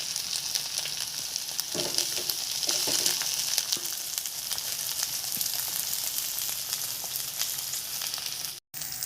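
Onion, garlic and green chillies fry in a pan for an Assamese taro-leaf dish, giving a steady, close sizzle with soft crackles and occasional stirring clinks throughout; no one speaks.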